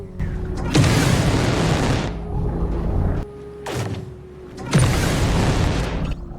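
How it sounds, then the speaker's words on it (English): Gunfire in the video game Star Citizen, heavy booming bursts in two loud rolling volleys separated by a quieter stretch with a steady hum, dense and close. "what I think to be gunfire."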